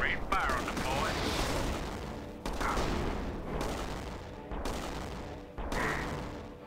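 Gunfire in the strategy video game Battle Islands Commanders, rapid volleys of shots and blasts arriving in several dense bursts separated by brief gaps, layered over steady game background noise.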